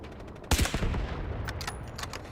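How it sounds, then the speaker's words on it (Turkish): Sniper rifle fire in the video game Delta Force Hawk Ops: one sharp, heavy shot cracks out, followed by fainter distant gunfire pops, fairly quiet overall. "şu keskin nişancıyla çok güzel bir headshot."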